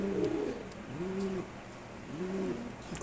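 A pair of red checkered pigeons coos nearby, soft low rolling calls repeated about three times at a steady pace, with no one talking.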